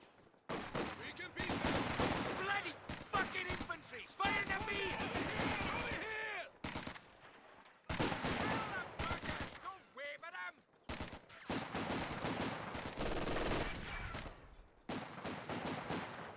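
An MG42 machine gun in Company of Heroes 2 fires repeated long, loud bursts with short pauses between them, mixed with other battlefield gunfire.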